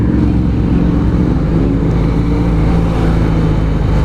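A QJ Motor SRK400 400cc motorcycle engine drones steadily during a ride, a loud, constant low hum with wind rush and no breaks.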